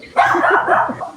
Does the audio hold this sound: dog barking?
yes